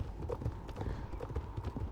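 Horse hooves clip-clop in the Star Stable game, a steady, fairly close walking rhythm of dull knocks repeating throughout.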